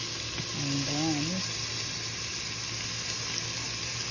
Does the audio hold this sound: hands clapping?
no